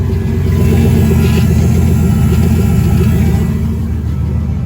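Steady low rumble of a car engine idling at about 700 rpm nearby, holding an even pace with a faint mechanical whir of the fuel pump on top.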